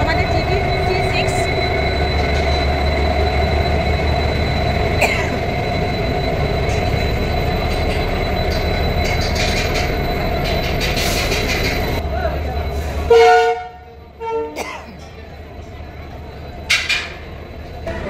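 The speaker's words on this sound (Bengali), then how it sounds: "এনজিপি হাওড়া জনশতাব্দী এক্সপ্রেস ঢুকলো 6:06 এনজিপি 1 নম্বর প্ল্যাটফর্মে।" The NJP–Howrah Jan Shatabdi Express pulls into platform 1 at New Jalpaiguri station with a loud, steady rolling rumble for about thirteen seconds. It then drops away into scattered clanks and squeals, with voices around the platform.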